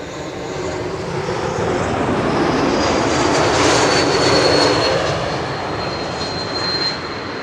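A KLM Boeing 777, flight 706 from Rio de Janeiro, arriving at Schiphol on the Kaagbaan runway, its loud broadband engine roar swelling steadily as it passes close by, with no talk.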